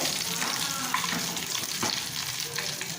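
Asafoetida tempering sizzles in hot oil for khichdi, with a steady frying hiss and a few soft stirring scrapes; no one talks.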